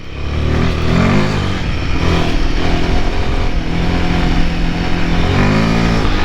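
A Royal Enfield Himalayan 450 motorcycle rides along a muddy trail, its engine droning loud and close with steady throttle and slight rises in pitch.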